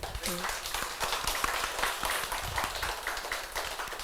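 A church congregation claps hands together during a sermon, a steady patter of many overlapping claps throughout, fairly close and moderately loud, with a voice briefly audible at the start.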